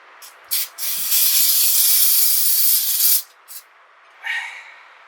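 A can of brake cleaner is sprayed during a Ram brake caliper and rotor job, giving a short hiss, then a loud, continuous two-second blast and a few brief follow-up spurts, heard close up with nothing else around it.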